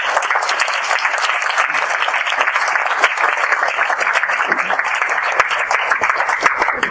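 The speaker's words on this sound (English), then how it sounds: "let's give another round of applause for Steve" Sustained applause from an audience at an enterprise technology meetup panel, dense and steady clapping filling the room for several seconds, with a few faint voices underneath.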